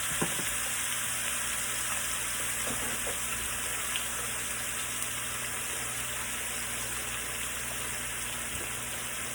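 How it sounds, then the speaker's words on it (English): Steak sizzles steadily in a hot pan for teriyaki, a continuous broadband frying hiss with faint scattered pops throughout, close and fairly loud, with no talking. "toss that steak in there. We'll give it a nice little saute"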